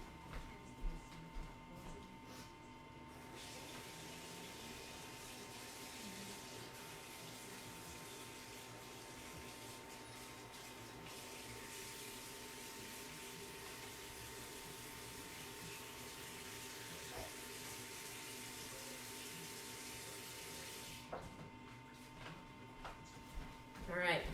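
Water runs steadily from a tap to rinse chalk paste off a surface, a continuous rushing flow lasting about twenty seconds, with faint handling noises at the start and end.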